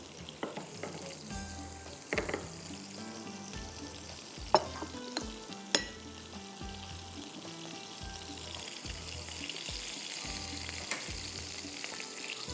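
Butter melting and sizzling in a pan for a chocolate dessert, a soft continuous sizzle with scattered clicks and scraping knocks from stirring.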